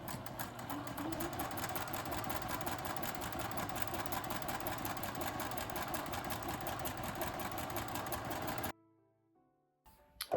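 A sewing machine runs slowly and steadily on sheer fabric, its needle producing a continuous close rapid chatter for most of the time before stopping abruptly, followed by near silence and a couple of small clicks.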